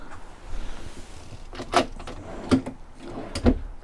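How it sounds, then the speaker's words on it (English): Drawers slide open and shut inside a 2020 Rapido 8094DF motorhome, giving three short, fairly close knocks and slides spaced about a second apart against quiet background noise. "Drawers and so forth."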